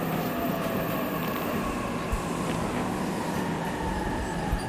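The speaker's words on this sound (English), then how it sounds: "Train's already here." A train pulls in at a station in the video game 13 Sentinels: Aegis Rim, giving a steady, loud rumble and hiss with faint clanks and no talk.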